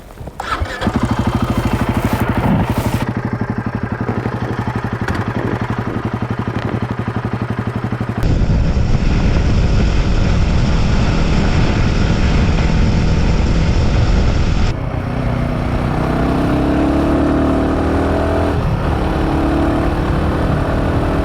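A Royal Enfield Himalayan 450 motorcycle roars at high speed, a loud, continuous engine drone with wind rush that changes character twice as different onboard microphone placements cut in.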